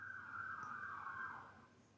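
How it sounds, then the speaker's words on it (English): Police car siren wailing outside in the distance, a faint rising and falling tone lasting about two seconds before fading. "I just heard police cars."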